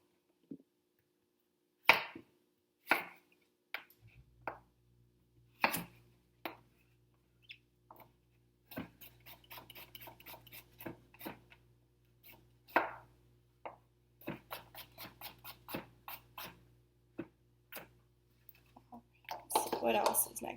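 A knife chopping zucchini on a cutting board, sharp irregular close taps coming in bursts, with a person talking between and over the cuts.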